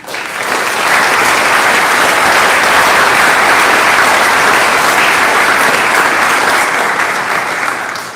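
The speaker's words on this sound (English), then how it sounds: "I would ask that you hold your applause so we can recognize them at the very end" A school honors night crowd gives sustained, dense applause for students receiving Youth Apprenticeship certificates, swelling quickly and holding steady for several seconds.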